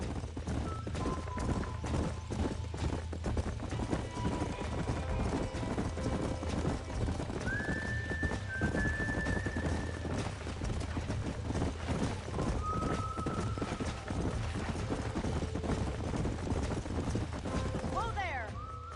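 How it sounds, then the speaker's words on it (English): In the Western video game Red Dead Redemption, horses clop steadily along with several neighs and whinnies, while voices talk over the hoofbeats. "These are fine horses."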